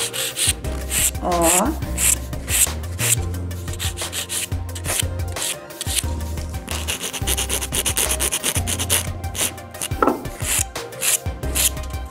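Acrylic gel nails are filed and sanded into a ballerina shape, giving close, steady rasping strokes in quick rhythmic bursts, with someone speaking briefly.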